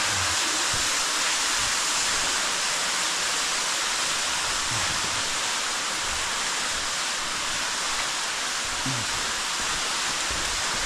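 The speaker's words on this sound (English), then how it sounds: "that water's dumping in here faster." Water pours heavily into a cave, a steady broadband roar like a waterfall filling the space continuously and loudly, with no voices.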